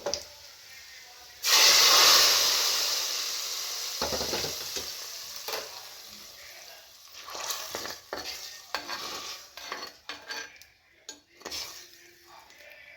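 Sardine curry bursts into a loud sizzle as liquid is poured into a hot pan of browned onions, the hiss fading gradually while spoon stirs and clinks of utensils follow.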